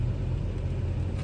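A car idling with its engine running after the gear stick was stuck, giving a steady low rumble close by, with no voices.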